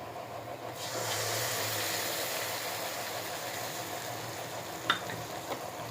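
Spice paste frying with onions in a pan, a steady broadband sizzle that swells after the first second and holds, with a couple of brief clinks near the end.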